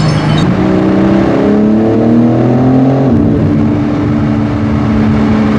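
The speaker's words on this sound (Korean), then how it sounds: "팝콘이 오히려 더 잘 터지는 것 같은데" A BMW G82 M4 Competition xDrive driving through a tunnel, its engine droning loud and close with rising then dropping revs, a gear change near the midpoint, and a continuous booming exhaust note echoing off the walls.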